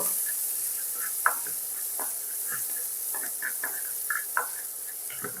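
Steady sizzling hiss of Kashmiri chilli powder frying in a pan, with occasional light taps and scrapes of a utensil.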